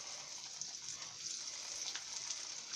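Raw banana and poha snack frying in hot oil over medium heat, a steady soft sizzle with faint crackles, close and quiet, with no voices.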